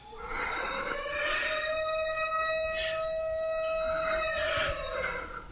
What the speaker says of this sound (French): La sirène des têtes à slap pour mettre fin à ce débat très instructif et très intéressant.